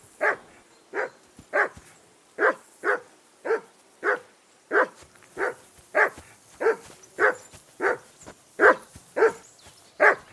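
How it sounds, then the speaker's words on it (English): A dog barks steadily in Kingdom Come Deliverance II, about seventeen evenly spaced barks close by with no other sound between them. "Call off that damn dog before he wolfs down the last of our meat."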